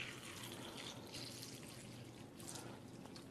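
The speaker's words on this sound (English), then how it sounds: "So we're just going to simulate that by pouring some tap water in here." Tap water poured over a bag of Nature's Sweet tomatoes, a steady soft splashing and trickling that runs without a break for a few seconds, fairly faint and close.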